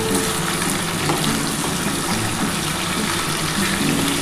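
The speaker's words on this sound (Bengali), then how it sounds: "একটুখানি লাল লাল করে চিকেনটা একটু ভাজা করে নিই" Chicken frying in a pan with turmeric, salt, chilli powder, ground spice paste and a little yogurt, a steady dense close sizzle without talk.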